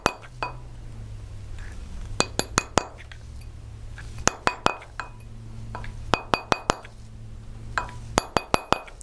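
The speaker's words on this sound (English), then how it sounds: "I just continue to lightly tap. This is not a heavy-handed task." Light metal tapping on a soldered jewelry ring, clusters of sharp bright clinks in quick groups of three to five separated by short pauses, close and clear over a low background hum.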